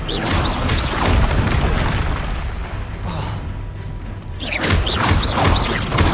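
Repeated Confringo fire-spell blasts in Hogwarts Legacy, a dense run of loud booming bursts and crashes with a short lull near the middle before another volley, set against ongoing combat noise.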